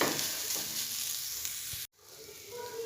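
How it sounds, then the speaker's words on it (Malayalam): Carrot and tapioca fry over a medium flame in a pan while being stirred, giving a soft, steady sizzle that cuts out abruptly near the end before a faint hiss resumes. "ഇനി നല്ലപോലെ കുക്കാവുന്നവരെ നമുക്കിത് ഇളക്കിക്കൊണ്ടിരിക്കാം"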